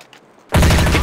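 Loud, close rapid-fire shooting from a 2002 video game erupts abruptly after half a second of near silence, a dense sustained burst of gunfire that continues to the end.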